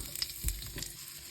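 Chopped onion frying in a hot pan with ghee, oil and spices for chicken dum biryani, a soft close crackling sizzle with a few brief stirring scrapes, no voices.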